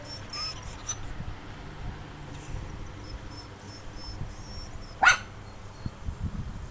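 Small dogs at a dog resort bark in the background amid a steady indoor hum, with one sharp, louder yelp standing out and scattered fainter barks around it.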